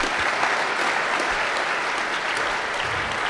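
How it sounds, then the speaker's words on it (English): A crowd at a morning startup pitch event in a Kansas City bar applauds in a steady wash of clapping, even and continuous with no talk. "Let's go ahead and give them a round of applause"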